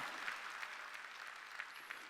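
Dense, steady hand clapping from a congregation at a Sunday church worship service, a continuous wash of claps with a few sharper accents, sustained throughout.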